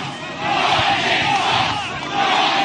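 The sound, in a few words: stadium crowd cheering at NFL game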